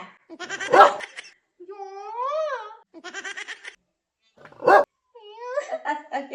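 A person imitates a dog, letting out several short yelping barks and long, rising whine-like howls in bursts separated by brief pauses, close and fairly loud.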